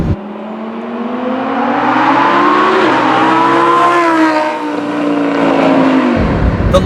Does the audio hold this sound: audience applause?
no